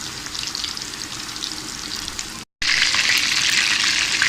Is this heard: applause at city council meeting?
no